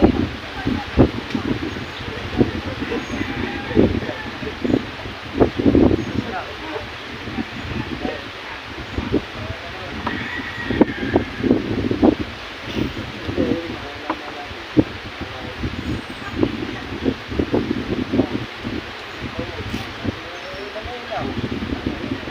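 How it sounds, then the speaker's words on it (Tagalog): Wind rustles leaves and rumbles against the microphone while people talk throughout. "Grabe ang hangin na to."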